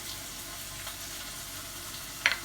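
Roasted curry powder and coconut paste frying in a pan for a shark fish black curry, a soft steady sizzle throughout with a small sharp clatter near the end.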